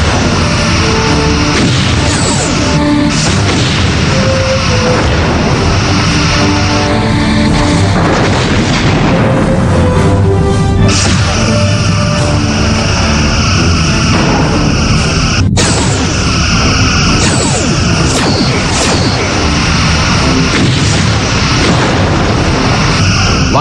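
Star Trek Bridge Commander space battle with torpedoes fired and exploding as a continuous loud barrage of deep booms and blasts layered over a dense, constant roar of combat effects.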